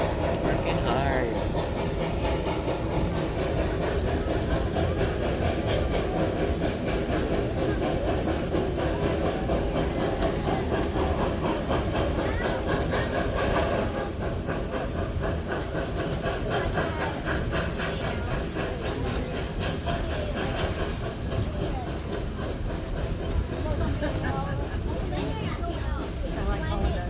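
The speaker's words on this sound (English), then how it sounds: "And there's the train." The 1880 Train, a working steam train in South Dakota, rumbles along the tracks on an uphill curve. A continuous heavy, close roar runs throughout, with a faint clickety-clack beneath it and occasional voices.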